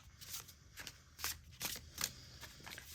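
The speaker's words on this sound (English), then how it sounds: "So I'm going to give this a shuffle" Tarot cards being shuffled in a few quick riffling bursts, close up and fairly soft, with short pauses between them.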